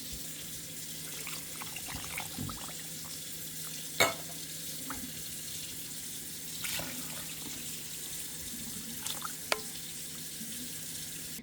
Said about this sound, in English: I'm going to fill them up with water and dump that water in here.